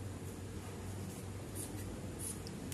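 Chalk or marker writing on a classroom board, a continuous scratchy scraping under steady room noise, close and moderately loud.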